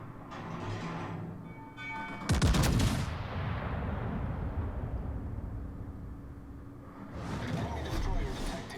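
Heavy naval guns boom from the Japanese tier 8 battleship Yumihari in World of Warships: one loud, sharp salvo, then a long rumbling roar and a second swell of noise near the end.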